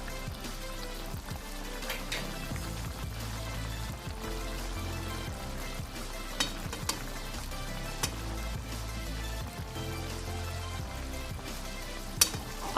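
Mutton sizzling and frying in a hot karahi, a steady crackle with occasional stirring scrapes and clinks, close but fairly quiet.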